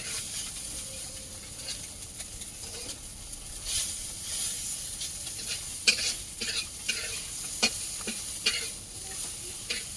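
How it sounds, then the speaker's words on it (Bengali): Fish fries in a pan in a village kitchen, giving a steady close sizzle broken by scattered spatula taps and scrapes, heard alone without talk. "মাছ ভাজা হয়ে গেছে, আমি এবার মাছগুলো তুলে নেব।"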